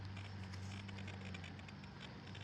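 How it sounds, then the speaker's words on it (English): Hard rain pattering steadily outdoors at a dig site turning up Colonial brick, a dense continuous hiss over a low steady rumble with no voices. "it's starting to rain pretty hard"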